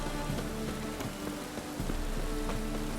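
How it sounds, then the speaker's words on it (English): Steady rain patters on surfaces in The Witcher 3, a dense, even hiss of falling drops with scattered louder splashes, continuous throughout with no talk. "Rain again. Damn rain."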